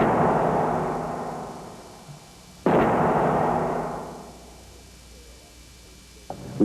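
A Boeing 747 wing breaking in a stress test: two loud sudden cracks like explosions, each followed by a long decaying roar, with a smaller snap near the end.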